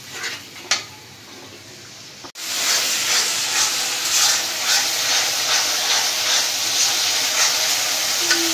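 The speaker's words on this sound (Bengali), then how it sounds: "এখন দেব আদা রসুন বাটা। মশলাটা ভালোভাবে কষাই নেব।" Ginger garlic paste masala stir-fried in a hot pan for a fish curry: a sudden loud sizzle bursts in after a faint stir, then a steady hissing fry continues close up with light scraping of the spatula.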